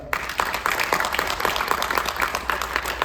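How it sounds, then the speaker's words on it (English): Round of applause from the audience at a high school honors academy senior project presentation, steady crowd clapping of moderate loudness that fills the whole stretch. "can we please give a round of applause to Mrs. Erdos as well?"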